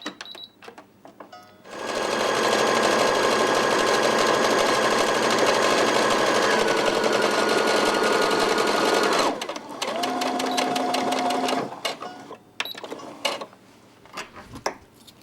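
A Simplicity sewing machine stitches in a steady, close mechanical whir for about eight seconds, pauses briefly, runs a shorter burst, then gives way to a few clicks and taps of handling.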